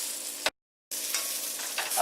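Green tomato slices frying in hot oil give a steady close sizzle and crackle, with a short silent gap near the start and light stirring or shifting sounds.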